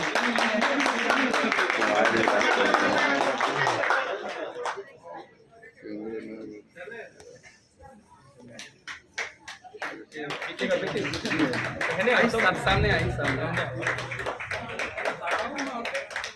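An audience at a government pharmacy college freshers party claps in a dense burst alongside lively talk, then fades to sparse scattered claps and a few words before clapping and crowd noise swell again.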